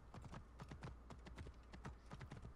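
Horse hooves clip-clop in a quick, steady galloping rhythm in Assassin's Creed Origins, a continuous series of crisp, close hoofbeats played quietly with no talking.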